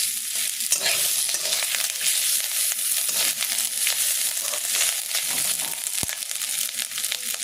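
Chickpeas frying with ginger paste in a pan, a loud continuous sizzle with scraping stirring strokes and one sharp clack of a utensil, no voices.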